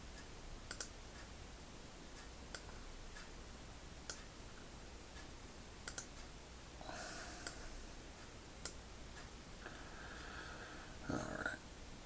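A computer mouse gives sparse, faint, sharp clicks at irregular intervals over a quiet room hiss, with a little soft keyboard or desk noise between them.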